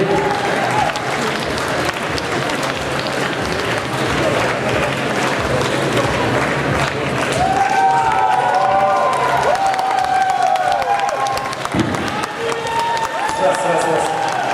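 Audience applause and cheering greet a band at an Izvestia Hall concert, a dense sustained wash of clapping and voices lasting throughout, with some musical tones rising partway through.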